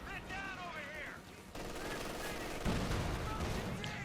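Machine gun fire from an MG-42 in the video game Company of Heroes 2, dense rattling bursts mixed with other battle noise, while a caster talks over the action.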